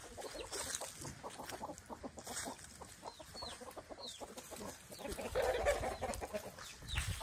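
Chickens cluck in a farmyard, with short bird calls scattered through a steady outdoor bustle of fowl noise at moderate distance.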